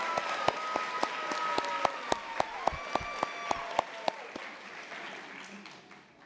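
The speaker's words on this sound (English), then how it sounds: "Round of applause for this group." Applause fills a nursing school spring convocation hall after faculty bestow nursing pins, a dense crowd clapping steadily with a few sharp, louder claps standing out near the front.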